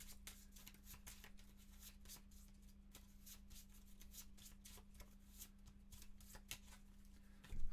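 Cards for the board game Ugly Gryphon Inn are shuffled by hand at a solo tabletop session, a soft continuous riffle and rubbing of cards, quiet and close, with a slightly louder handling thump at the end.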